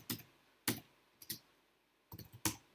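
A handful of quiet, scattered clicks from a computer keyboard as a search is typed into Canva, with short pauses between keystrokes and no voices.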